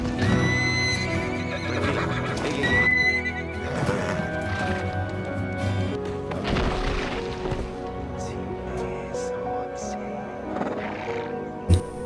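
A horse neighs and whinnies loudly in a film scene, with clip-clopping hooves and a busy soundtrack underneath, the calls rising and falling over about twelve seconds.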